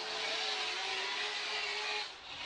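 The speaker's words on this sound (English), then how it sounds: "Odi gassing it there against Field." Formula Drift race car at full throttle in a New Jersey round, a steady loud high engine roar holding a pitch through the whole short stretch, easing slightly at the end.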